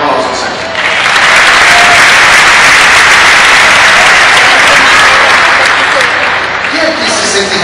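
Loud sustained applause from a church congregation fills the room, a dense wash of clapping that swells and holds for several seconds without letting up.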